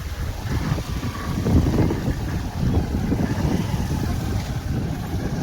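Floodwater rushing steadily over a submerged village road, with broad, continuous turbulent roar close to the microphone and gusts of wind buffeting it; no voices.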